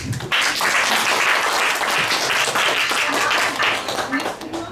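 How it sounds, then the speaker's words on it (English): An audience applauds steadily for several seconds, dense clapping throughout, fairly close and even in level. "let's give them a round of applause"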